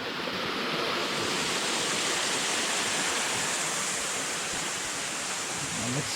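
Shiva (Sesame) waterfall near Robokva-Tangpui village roars as a loud, steady wash of falling water, continuous and close throughout with no voices.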